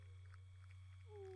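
A person imitating whale song with soft drawn-out moans, a quiet low tone that slides into a rising wail near the end over a constant hum.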